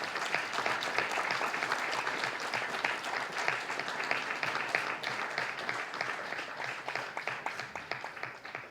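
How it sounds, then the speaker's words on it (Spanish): A crowd at a book presentation applauds steadily for several seconds, dense clapping at moderate distance that tapers slightly toward the end. "por favor, un fuerte aplauso"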